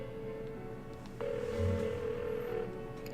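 A phone rings unanswered in the video game Persona 4, a steady electronic ringback tone that starts partway through and holds for over a second, faint at first and then clearer.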